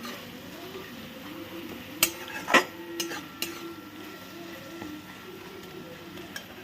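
A spatula stirs softened tomatoes in a pan, making a few light scrapes and clinks spaced over a quiet, low kitchen background.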